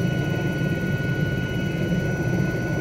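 Helicopter cruising low in Microsoft Flight Simulator 2020 over Banff scenery, a steady broad turbine and rotor roar with a thin whine on top, continuous and even.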